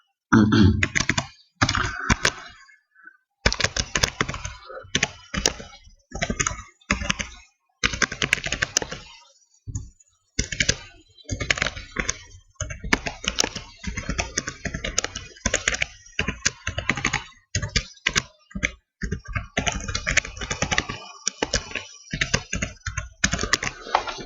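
Computer keyboard keys clatter in bursts of fast typing with short pauses between, close and crisp, as title text is entered in Ulead VideoStudio video editing software; no talking.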